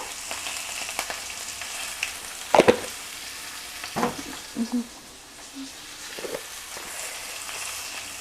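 Sambar ingredients frying in a pan get stirred: a low, quiet sizzle runs under a few scattered scrapes and knocks of the spoon against the pan, near and irregular, with no voice.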